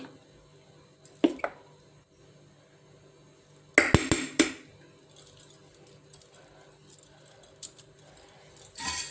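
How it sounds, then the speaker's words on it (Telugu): A spoon mixing ragi dosa batter, heard as a few sharp clinks and taps against the vessel, brief and sparse against a quiet background. "ఇప్పుడు 1 స్పూన్ తీసుకొని మొత్తం ఇట్లా కలుపుకొని పిండి అంత కలిసేలాగా కలుపుకొని"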